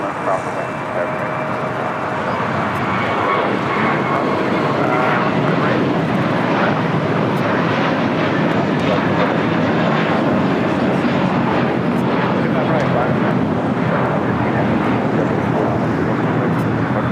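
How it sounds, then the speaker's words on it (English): A JetBlue Airbus A321 jet takes off from LAX bound for JFK, a loud, sustained engine roar that fills the whole stretch while people talk over it. "This is JetBlue 424 taking off to JFK on the A321."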